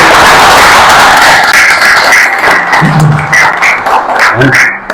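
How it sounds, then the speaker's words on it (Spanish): Audience at a talk with studio photographers breaks into applause, a loud, dense clatter of clapping that gradually thins and fades, with a few voices surfacing as it dies down. "Un aplauso."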